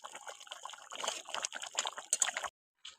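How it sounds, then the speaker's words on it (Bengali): Gravy of a green jackfruit and prawn curry simmering and reducing in a pan, a steady close bubbling and sputtering with small pops, cutting off near the end before a brief faint return. "একটু জাল দিয়ে নেবো ঝোলটা একটু কমিয়ে নেবো"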